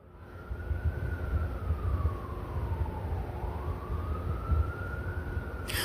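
Emergency sirens pass outside, a loud wailing tone sweeping down and back up over steady traffic rumble, continuous for several seconds with no talk.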